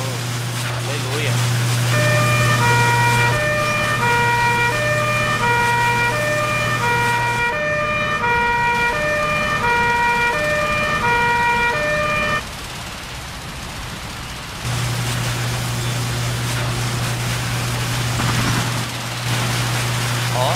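Emergency vehicle sirens in the video game Emergency 4 with a São Paulo mod, a steady wailing tone over a low engine drone, the drone dropping out midway before returning, with players talking over it.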